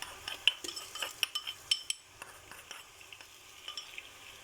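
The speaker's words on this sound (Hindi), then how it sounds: "अब इसमें डालेंगे अदरक लहसुन का पेस्ट।" A utensil stirs browned onions with freshly added ginger-garlic paste in a pan, making light scraping clicks over a soft sizzle. It is close and fairly quiet, with no talking.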